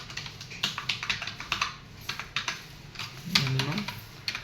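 Computer keyboard typing during a SQL tutorial, a quick uneven run of light key clicks at close range, with a brief voice near the end.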